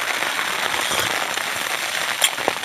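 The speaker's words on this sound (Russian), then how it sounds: "разошелся дождь просто" Rain falling steadily during a trek across the Taymyr tundra toward the Byrranga mountains, a continuous broadband patter that stays even throughout, with a couple of sharper drops or taps near the end.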